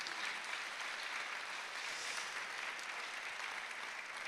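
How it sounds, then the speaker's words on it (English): Audience applause fills a hospice anniversary celebration evening, a steady broad wash of clapping from a crowd that holds evenly throughout without pause. "Can we give a round of applause for all the support that we have?"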